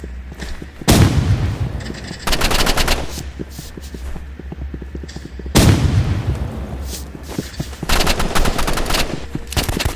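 Loud, close gunfire from the video game Rivals rattles in rapid automatic bursts, each opening with a heavy booming shot, over a steady low rumble.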